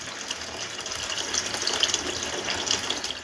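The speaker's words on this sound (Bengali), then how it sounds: "আমি পরিমাণ মতন জল দিয়ে দিচ্ছি।" Water pouring steadily into a cooking pot for a Bengali fish roe curry, a continuous close splashing gush with no talk.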